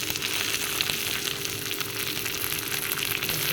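Chopped tomatoes hit hot oil in a pan while a Bengali morola fish jhal cooks, giving a steady, close, dense sizzle that holds evenly throughout with no talking.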